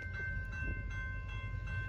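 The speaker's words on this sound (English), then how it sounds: "There goes that BNSF coal train going westbound." A westbound BNSF coal train passes at a street crossing in Temple, Texas, a steady low rumble of rolling cars heard up close with a sustained tonal hum over it.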